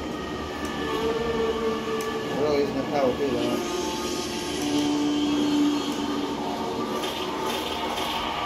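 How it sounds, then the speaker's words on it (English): A train rumbles past in Call of Duty Zombies on the Mauer der Toten map, a steady rolling clatter and hum beneath game noise while a person talks over it. "That's a train, but we don't know where that's coming from."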